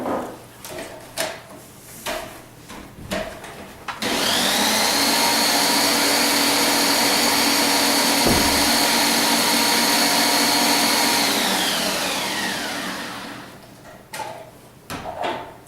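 A kitchen blender whizzes coconut in one steady high whine lasting about nine seconds, then winds down. Light clatter and handling noises come before and after.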